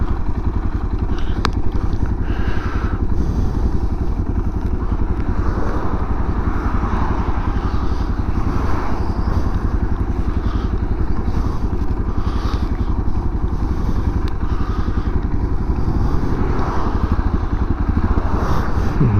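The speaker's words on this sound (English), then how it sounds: "Loads of traffic now." Busy road traffic with motorcycles passing close by, a continuous loud low engine rumble with occasional clatter and thuds, steady throughout with no break.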